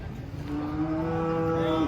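Humped cattle moo loudly and close at hand, one long drawn-out call holding steady for nearly two seconds over a busy livestock-market background.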